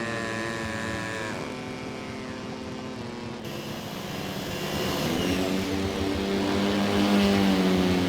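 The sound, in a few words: model airplane engine in flight simulator game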